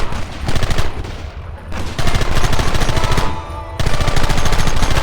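Sustained automatic gunfire in Red Dead Redemption on PC, loud, dense bursts of rapid shots rattling almost continuously across the whole stretch, with two brief lulls where the firing thins out.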